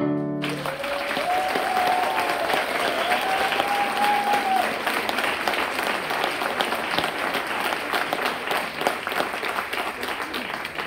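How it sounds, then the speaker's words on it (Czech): Sustained audience applause at a school performance, steady and full for about eleven seconds, with a brief fading musical tone at the start. "tak si všichni nakonec pěkně zatleskáme"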